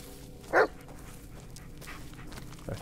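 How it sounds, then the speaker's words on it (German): A stubborn dog in the horror game Blair Witch gives a single short bark, loud and close, against a quiet, murky forest ambience. "Ein dickköpfiger Hund."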